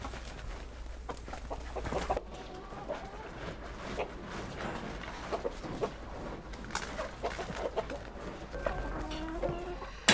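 Chickens cluck continuously around a rural farmhouse yard shared with cattle, with busy overlapping clucks and short calls near and far over a low steady hum.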